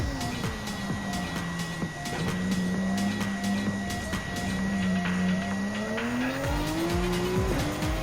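Aston Martin DB-R9 race car braking into a chicane in Gran Turismo 7, engine note dropping and wavering as tyres squeal, with a loud continuous roar and repeated rapid clicks throughout.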